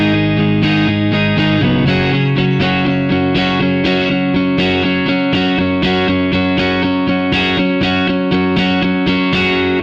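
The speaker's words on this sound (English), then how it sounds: "I'm playing 8th notes, all with downstrokes." Distorted electric guitar chugging steady eighth-note downstrokes through a riff, a dense, loud, continuous chordal drive with even rhythmic attacks and no voices.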